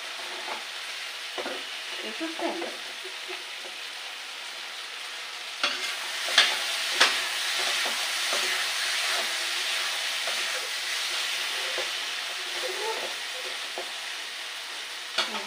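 Food sautéing in a pan, likely kochur loti with fish, gives a bright frying sizzle under repeated stirring clatters and scrapes, louder in the middle and easing toward the end.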